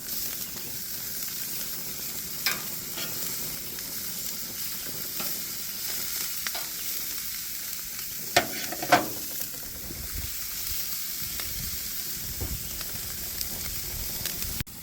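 Sirloin tip and ribeye steaks sizzle on a new Napoleon Freestyle 365 barbecue, a steady close hiss with a few sharper pops and crackles.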